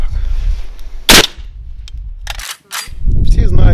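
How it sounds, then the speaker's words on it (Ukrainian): A Kalashnikov rifle fired without a silencer gives one loud, sharp unsuppressed gunshot that cracks out against low background rumble, followed by short fainter knocks and handling noise. "Всі знають, як стріляє калашпат без глушника"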